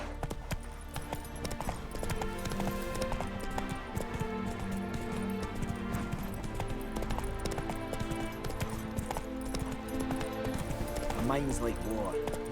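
Hooves of a horse galloping in The Witcher 3 on Xbox Series X, a steady rapid clip-clop running under dense game music and effects, with a voice speaking over it.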